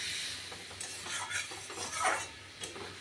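Bottle gourd with green chillies sautéed in a pan before prawns go in, a soft continuous sizzle with intermittent scraping and stirring clatter of a spatula against the pan, moderately close.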